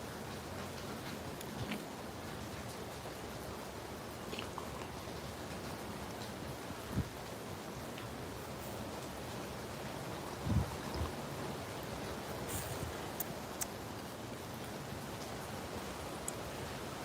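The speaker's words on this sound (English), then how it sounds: "I got that sideways rain coming in today." Steady wind-driven sideways rain hisses continuously outdoors for a long stretch, with occasional soft thumps and drips rising briefly above the wash.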